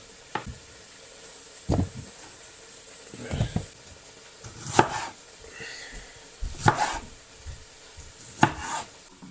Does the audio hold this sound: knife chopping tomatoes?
yes